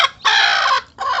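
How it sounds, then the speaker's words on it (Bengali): A domestic hen with newly hatched chicks gives two loud, close clucking calls, each a drawn-out, slightly rasping cry separated by a brief pause. "আমার মুরগির বাচ্চা করা তুলছে এবং খুব সুন্দর বাচ্চা ফুটেছে মুরগি"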